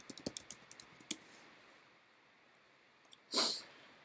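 A few quick keystrokes on a computer keyboard tap out a short burst of close, light clicks, then go quiet, followed by one louder, longer clatter near the end.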